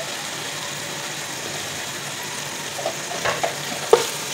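Tomato masala with salt and cumin frying and being stirred in a pan, a steady close sizzle with a few soft spoon scrapes and taps near the end.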